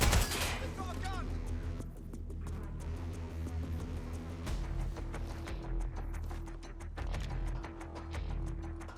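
Rapid gunfire in the video game Watch Dogs: Legion, repeated sharp shots and bursts over a low steady game background, with a voice talking at times beneath the shooting.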